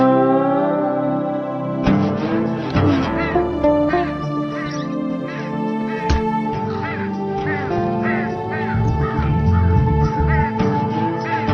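Harsh cawing and quacking bird calls in a Hindi-dubbed movie scene, a loud run of repeated raspy cries that starts after a short pause and keeps going to the end.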